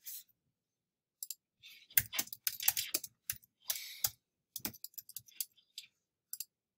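Mouse clicks and typing on a computer keyboard during data entry: irregular clusters of close, crisp key taps and clicks separated by short pauses, quiet and with no speech.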